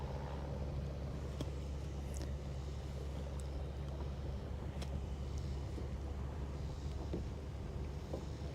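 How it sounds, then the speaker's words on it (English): Wind blows over a boat on Lake Guntersville. It makes a steady, faint low rumble and buffets the microphone, with a few light knocks and no clear talk. "Now the wind is being stupid."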